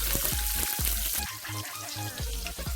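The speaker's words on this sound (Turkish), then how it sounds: "Biberlerim de hafif sotelendi." Sliced peppers sautéing in a frying pan in oil, a steady close sizzle with soft clinks and stirring knocks in the pan, no talk.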